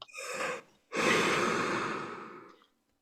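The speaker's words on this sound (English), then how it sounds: "So let's take a deep breath." Someone takes a deep breath up close, first a short inhale, then a pause, then a long audible exhale that lasts nearly two seconds before fading to silence.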